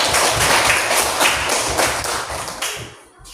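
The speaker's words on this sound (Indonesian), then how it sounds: "Iya, tepuk tangan untuk kita semua." Applause from a classroom audience of teacher trainees, a dense run of many hands clapping close and steady for about three seconds before tapering off.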